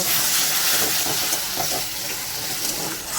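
Masala spices fry in a pan as water is added, giving a steady, moderately loud steamy hiss and sizzle that continues throughout without any talking.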